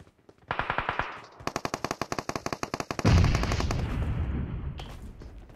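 Automatic gunfire in the BGMI mobile battle royale game: a rapid run of sharp, evenly spaced shots, then a heavier burst with a booming tail that fades, followed by a final single shot.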